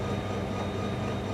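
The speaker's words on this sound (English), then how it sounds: "This is an older train, it's a slower train." An older, slower passenger train moving along the line in Malaysia, a steady dense rumble and rattle heard from on board with no voices.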